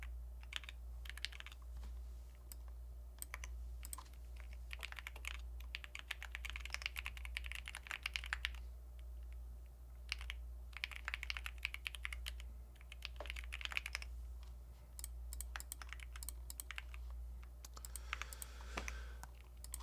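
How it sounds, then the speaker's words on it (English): Computer keyboard typing during coding practice, a steady stream of quick, fairly quiet key clicks with brief pauses, over a constant low electrical hum. "It's a lot of typing for problem 1."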